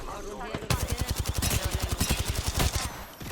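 Rapid automatic gunfire in the battle royale game Apex Legends, a loud close burst of evenly spaced shots that starts abruptly and rattles on for several seconds.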